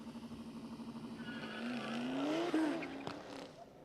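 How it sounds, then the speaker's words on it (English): A Dodge Scat Pack racing an all-wheel-drive Porsche at a drift pit event, the engine tone climbing steadily to a roaring peak with a brief tire chirp before fading, heard from a moderate distance. "it's a Scat Pack versus an all-wheel drive Porsche"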